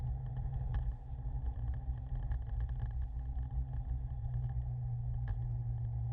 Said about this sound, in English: Under the 6 lanes of traffic on Bowen Bridge Road.